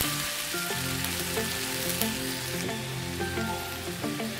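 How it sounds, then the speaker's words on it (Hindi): Bitter gourd with tomatoes and whole green chillies sizzles steadily in a pan, a continuous close frying hiss with occasional light stirring taps. "मैं इसको तकरीबन 2 से 3 मिनट इस तरह ही भूनूंगी ताकि जो टमाटर आ रहे हैं थोड़े से सॉफ्ट हो जाए"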